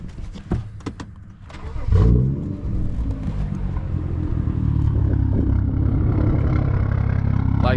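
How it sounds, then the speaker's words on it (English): A tuned, daily-driven BMW with about 150,000 miles starts up after a few clicks and handling noises, its engine catching with a loud crank and settling into a steady, throaty rev and idle that runs to the end. "let me cut the car on"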